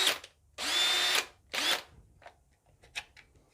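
A Makita cordless drill on a repaired battery whirs in two short bursts, one longer and one brief, with its motor spinning up and winding down, followed by faint clicks.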